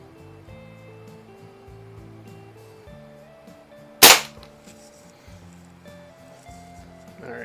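A single sharp pellet shot from a Crosman 106 .22 multi-pump pellet pistol cracks out loud and close, decaying quickly over a low background hum.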